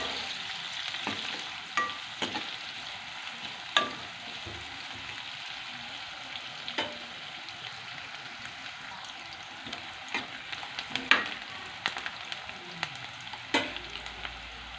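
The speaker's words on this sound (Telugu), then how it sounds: "ఉల్లిపాయలు ఫ్రై అవుతున్నాయి." Onions fry in a pan for an egg and tomato curry while a utensil stirs them, with soft continuous sizzling broken by scattered scraping clicks from the stirring.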